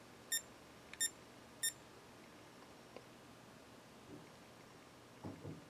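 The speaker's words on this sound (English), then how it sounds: "set the alarm here and see what it sounds like" Three short electronic beeps from an Avon Tech portable weather station alarm clock, model F3730621, ring out in quick succession, evenly spaced, followed by faint rustling and quiet handling noise.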